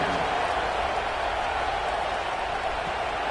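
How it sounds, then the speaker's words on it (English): Steady, dense crowd roar fills a college football stadium in NCAA 26 after a touchdown, a continuous broadband wash of cheering held at an even level from start to finish. "this crowd is buzzing after that last score"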